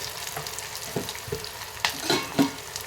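Onions and tomato fry in a pan for beetroot palya, a steady low sizzle with a few soft stirring scrapes and clicks rising over it, close and moderately quiet, no voices.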